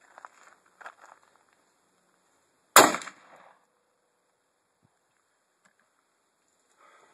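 A single sharp, loud 6.5mm Grendel rifle shot cracks outdoors over chronographs, with a short echoing tail, then quiet with faint movement sounds.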